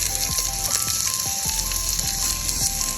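Jalapenos and onions frying in chorizo grease on a PK grill, a loud continuous close sizzle with a few clinks and scrapes.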